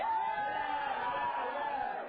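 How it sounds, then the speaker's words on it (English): A crowd cheers and whoops steadily throughout, a dense continuous roar of voices at an event that stays loud from start to end. "Sure, applause."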